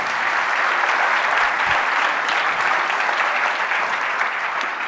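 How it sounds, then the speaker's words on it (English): Steady, full applause from an audience at a startup pitch night, loud and continuous clapping from many hands with no talk over it. "A big applause for Mariana"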